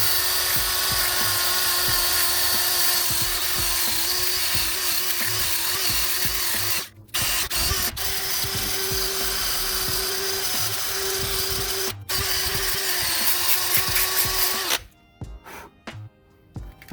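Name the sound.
wire brush on drill cleaning rust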